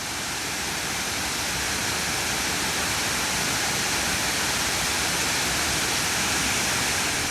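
A waterfall tumbles over limestone terraces in Laos, giving a loud, unbroken roar of falling water that stays steady and broadband throughout, with no voices.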